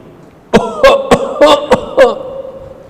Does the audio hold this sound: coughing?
yes